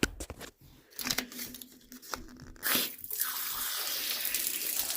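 Water starts flowing after the inlet valve is opened on a water heater during a temperature and pressure relief valve replacement, a few handling clicks giving way to a steady hiss of running water.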